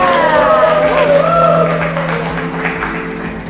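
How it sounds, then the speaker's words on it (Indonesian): Classroom children clapping, a dense burst of applause mixed with voices and a few shouts, fading gradually toward the end. "Baik Naya, tepuk tangan"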